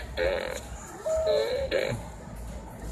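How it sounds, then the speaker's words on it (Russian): Short squeaky, raspy blasts come from a Minions-themed toy fart whistle squeezed in a toy store, three quick bursts close by against a quiet room hum. "О, это у нас такая пукалка"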